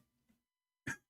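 A single loud, harsh cough from a man during a live debate, one short burst standing alone after a faint, murmuring stretch.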